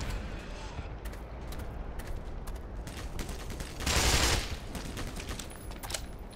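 Steady, dense gunfire in the shooter game Black Mesa, aimed at the player. It rattles on throughout, with one louder, harsher burst in the middle and no pause.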